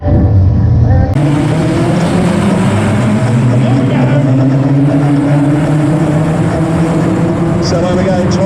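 Race cars at Aldershot Raceway roar steadily and loudly, several engines droning together in a continuous, close pack, with a commentator's voice running over the top.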